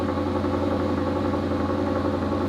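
Maserati GranTurismo S engine idling steadily up close, a smooth continuous mid-pitched hum with faint vibration, no voices over it.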